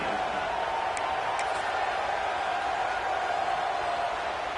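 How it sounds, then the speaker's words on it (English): An Ohio State Buckeyes football stadium crowd roars on a third down, a loud, steady wash of cheering that fills the whole stretch without letting up. "The Buckeye crowd alive on third down."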